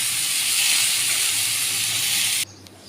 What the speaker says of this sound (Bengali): আমি এটা প্রেশার কুকারে দিয়ে দিয়েছি, যেহেতু নরম করতে হবে